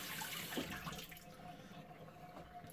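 Faint, steady hot water runs from a tap over a shaving brush being wetted at a sink, a soft continuous splashing rush with no voices.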